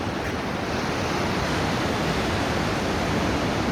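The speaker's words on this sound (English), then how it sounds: "Beautiful big waves." Big ocean surf at Jaco Beach, Costa Rica, at sunset, a continuous loud, dense roar of breaking waves with wind rumbling across the microphone throughout.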